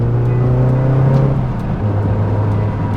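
A Mazda NC Miata fitted with a short-throw shifter drives along, its engine droning loud and steady inside the cabin, the pitch dropping partway through as the car shifts down into third.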